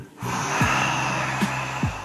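Breathing exercise with warm exhales: a close, audible breath sound lasting about two seconds, with soft breathy noise and a few short gasp-like bursts over a steady background hum.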